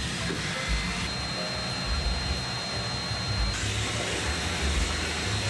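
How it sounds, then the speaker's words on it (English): A vacuum cleaner hoovers out the inside of a vintage electric piano, a loud steady whooshing drone that continues unbroken with slight shifts in tone. "I'll give this a little hoover out."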